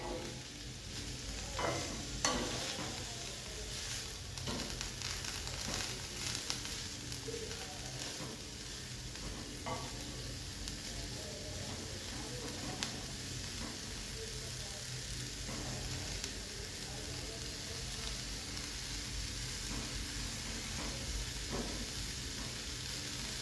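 Beetroot mixture sizzles steadily in a pan over a low flame, a continuous frying hiss with occasional soft scrapes and knocks from stirring, close and even in level throughout.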